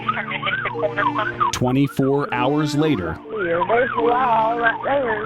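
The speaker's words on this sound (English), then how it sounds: "that's the siren of the same deputy's car passing the gas station" A deputy's police car siren wails in the distance as the car passes a gas station, heard under ongoing conversation.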